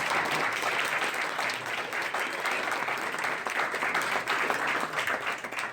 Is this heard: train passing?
no